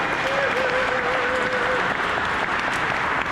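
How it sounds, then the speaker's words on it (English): Applause from a community meeting audience at a skatepark input session, a steady wash of clapping filling the room with a voice carrying over it. "So let's give a big round of applause for Manning."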